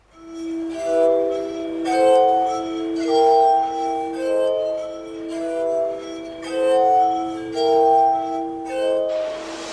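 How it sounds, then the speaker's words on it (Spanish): A glass harmonica, the rotating-glass instrument Benjamin Franklin introduced in 1761, plays a slow melody of sustained, ringing, ethereal tones that swell and overlap, clear and alone. "En 1761, Franklin presentó su armónica de vidrio."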